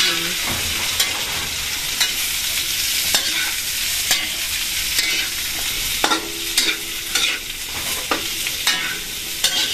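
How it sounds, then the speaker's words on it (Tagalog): Bean sprouts and tofu sizzle steadily in a pan while a utensil stirs them, with repeated scraping strokes and clacks over the continuous frying hiss, close and loud. "Lalagay na rin po natin itong ating gulay. Ito na po hahaluin."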